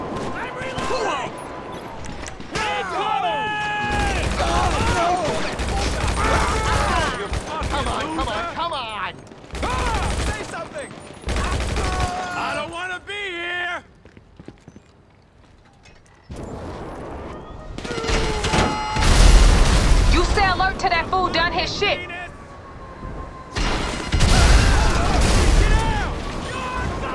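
Bursts of video game gunfire ring out during a GTA Online Tuners contract shootout, mixing sharp shots and booms with stretches of speech and a brief lull midway.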